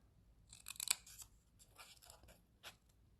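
Scissors cutting through folded paper in a quiet room, a close, crisp crunch of snipping strokes, strongest near the start, with a final short cut at the end.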